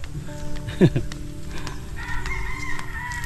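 A chicken squawks sharply in alarm, a brief startled cry among other clucking fowl in a noisy outdoor yard.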